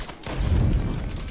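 A gunshot in the Mafia 3 video game, a single short loud burst with a low rumbling tail, heard alone without talk.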